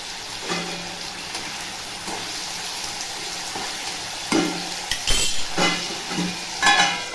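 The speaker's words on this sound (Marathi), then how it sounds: "बटाटे चांगले परतून घेते." Potatoes sizzle in hot oil in a wok while being stirred for sabudana khichdi. A steady frying hiss runs underneath, and a utensil scrapes and clatters against the pan at intervals.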